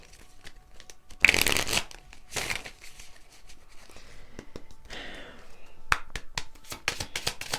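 A deck of love tarot cards is shuffled in several crisp riffling bursts separated by pauses, close and clear, with lighter card handling and soft taps between.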